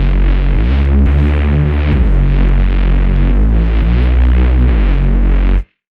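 A reese bass synth patch built in Vital, layered over a sub bass, drones loudly and steadily for nearly six seconds with a throbbing, shifting tone, cutting off abruptly at the end.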